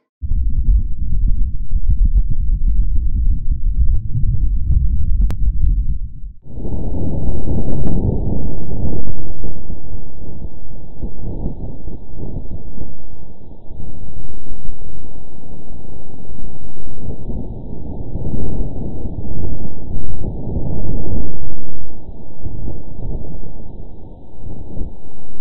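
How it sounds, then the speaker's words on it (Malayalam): Wind on Mars, recorded as it blows at 10 to 15 mph across the solar panels of NASA's InSight lander, comes through as a steady, low rumbling rush. It fills the whole stretch at fairly even loudness, with no voices. "ഇൻസൈറ്റ് ലാൻഡറിന്റെ സോളാർ പാനലിന് മുകളിൽ കൂടി മണിക്കൂറിൽ 10 മുതൽ 15 മൈൽ വേഗത്തിൽ വീശുന്ന കാറ്റിന്റെ ശബ്ദമാണ് ലാൻഡർ റെക്കോർഡ് ചെയ്തത്"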